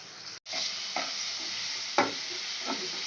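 Onion and tomato frying in a pan for kanda jawala, a steady close sizzle throughout with a few soft stirring scrapes and one brief dropout near the start.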